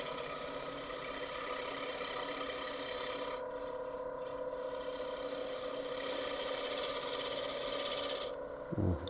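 Wood lathe spinning a box elder bowl while a bowl gouge cuts, giving a steady continuous scraping rasp over a constant motor hum, close and fairly loud, with a brief change near the end as the cut stops.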